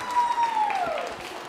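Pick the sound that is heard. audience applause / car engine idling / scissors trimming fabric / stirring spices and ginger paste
audience applause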